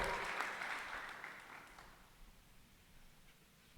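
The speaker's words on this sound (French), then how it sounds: "Acclamons pour elle." Applause from a church congregation during a service, loud at the start and then fading over a few seconds into scattered claps.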